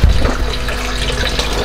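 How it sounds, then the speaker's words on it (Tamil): An electric aquarium cleaner sucks up tank water in a close, continuous gurgling rush, a steady liquid slurp with a low hum underneath and no speech. "ஓரளவுக்கு அது வந்து சக் பண்ணி எடுத்துகிட்ருக்கு."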